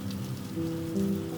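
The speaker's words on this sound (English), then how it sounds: "the sound of the rain still steady outside" Steady rain falls outside a barn, a continuous soft patter with a low rumble beneath, even and unbroken throughout, with no voices.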